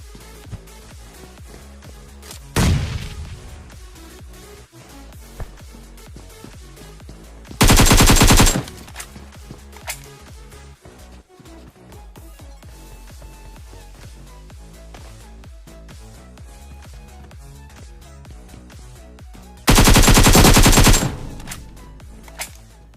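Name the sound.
gunfire in PUBG video game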